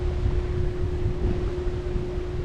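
A steady breeze blows across a boat on the Norfolk Broads on a warm day, heard as continuous low wind buffeting and rumble with a faint tonal hum beneath, with no speech.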